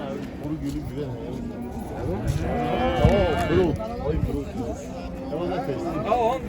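Simmental calves and cattle at the Kırşehir livestock market, with repeated moos and lowing rising over a busy crowd, people talking throughout amid general market bustle.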